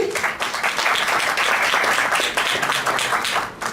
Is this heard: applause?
yes